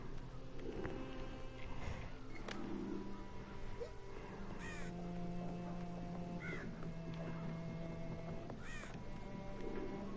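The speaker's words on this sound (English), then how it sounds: "This whole town's full of goddamn crows." Crows caw repeatedly in a video game town full of crows, with harsh calls scattered across the clip over a low ambient hum and faint tonal sounds, some cries nearer and some more distant.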